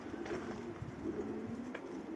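Racing pigeons coo softly near their loft, low rolling calls repeating in a gentle, uneven rhythm against a quiet outdoor background.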